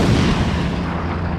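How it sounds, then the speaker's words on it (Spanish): A loud, sustained rumbling blast of an asteroid exploding on striking Earth's atmosphere, a deep booming roar that holds steady at high level for the whole span without any voices. "Los asteroides más débiles con frecuencia explotan al chocar con la atmósfera de la Tierra, creando una explosión cósmica."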